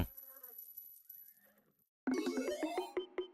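Zebra in the Build a Zoo game, a sharp, loud braying whinny that breaks in halfway after a quiet stretch with faint game sounds, in rapid pulsing bursts.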